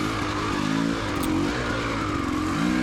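A KTM 300XCW two-stroke dirt bike on a woods trail, its engine loud and close as it revs and drops through throttle changes.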